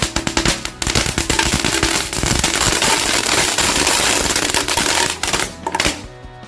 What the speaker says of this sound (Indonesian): Yang pertama ini dia mercon telur dino 2 pak. Kita masukkan ke dalam akuarium.